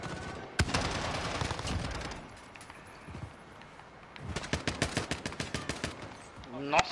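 Gunfire in Call of Duty Modern Warfare, with a sharp opening shot followed by rapid bursts of automatic fire that come close and loud, broken by a quieter stretch with game noise in between.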